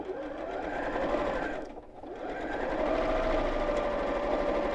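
A sewing machine top stitches through layers of fabric for a drawstring balloon pouch. It runs in a close, continuous mechanical hum, pauses briefly, then resumes steadily.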